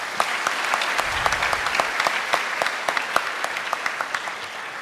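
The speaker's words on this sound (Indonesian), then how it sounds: "Tapi jangan tepuk tangan dulu" An audience at a Central Kalimantan regional police (Polda Kalteng) event about opening police recruitment bursts into applause, a steady patter of many claps at moderate loudness lasting several seconds, with no talking over it.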